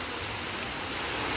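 Heavy rain pours down steadily over a rural homestead near a lychee tree, a dense, continuous hiss of drops drumming on surfaces with no gaps and no voices.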